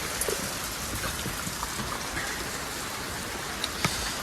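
Steady rain, two days running, pours down in a dense, even hiss, with a few louder drops tapping close by now and then.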